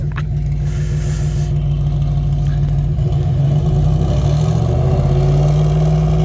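A faulty 2014 Shelby GT500 V8 roars loud and steady on a dyno pull toward about 14 psi of boost, holding a dense continuous drone that climbs slightly in pitch near the end, with no talk.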